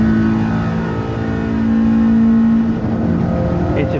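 A Nissan Silvia S14 race car pulls hard in fifth gear at high speed downhill, its engine a loud, steady drone that rises slightly in pitch, with no talking.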